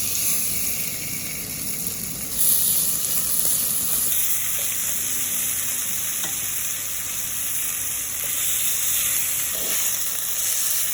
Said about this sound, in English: So now we're going to start by browning the meat